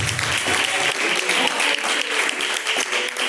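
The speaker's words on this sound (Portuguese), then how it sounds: "Podem glorificar ao Senhor com as palmas para Jesus" A church congregation claps in praise during a service, loud, close, dense hand clapping with a roughly rhythmic pulse, continuing steadily throughout.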